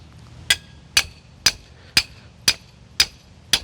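A steel star picket is hammered against timber in seven sharp, evenly spaced metallic strikes about half a second apart, each ringing briefly and close by, with no voices.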